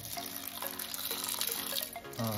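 Water runs onto sago pearls (sabudana) set to soak, a continuous close pouring wash heard beneath background music.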